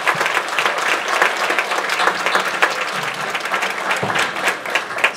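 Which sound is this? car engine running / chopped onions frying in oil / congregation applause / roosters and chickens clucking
congregation applause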